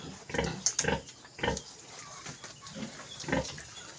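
Newborn piglets squeal and grunt in short, close bursts alongside their mother sow, who farrowed earlier than her due date, the cries coming in uneven clusters.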